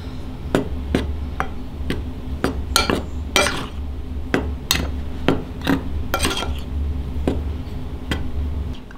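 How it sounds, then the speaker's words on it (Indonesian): A utensil stirs a tofu filling mixture with powdered broth, coriander, pepper and baking powder in a bowl, producing a run of sharp, irregular clinks and scrapes against the bowl over a low steady hum, close and with no voices. "Kita aduk sampai tercampur rata."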